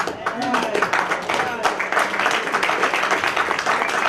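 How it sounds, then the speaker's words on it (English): Steady applause from an audience at a jazz event in Hartford fills the room, dense clapping continuing throughout with a voice speaking over it. "I just need you to give a big round of applause"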